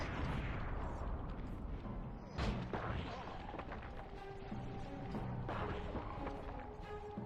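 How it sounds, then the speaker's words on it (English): Tank cannon blasts in the Sly 2 video game, a loud booming game mix with sharp impacts around the middle and again later, dense effects and music throughout and a voice talking over it. "You can dodge your tank blast"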